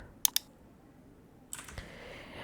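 A computer keyboard typing a drive-encryption password in Windows 11: a quick pair of close keystrokes, a pause, then a short cluster of softer key clicks in a quiet room.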